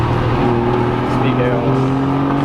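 A manual Audi R8 in race mode pulls hard under a loud, continuous engine roar with rising tones, close up from inside the cabin, as someone talks over it.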